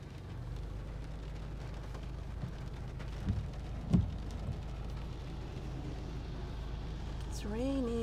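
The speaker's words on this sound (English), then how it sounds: "It's raining. I love it. I love the sound of rain." Steady rain hiss over a low rumble of a car being driven, with a couple of brief knocks midway and a short voice near the end.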